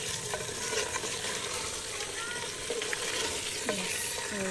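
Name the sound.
stirring handi chicken masala in clay pot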